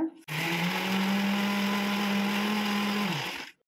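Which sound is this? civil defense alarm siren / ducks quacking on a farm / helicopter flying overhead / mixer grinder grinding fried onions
mixer grinder grinding fried onions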